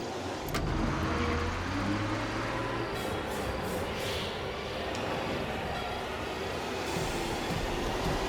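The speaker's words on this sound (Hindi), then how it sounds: "ये तो बस की आवाज है" A bus engine rumbles steadily with low droning tones as it approaches, traffic-like noise filling the scene throughout, no voices.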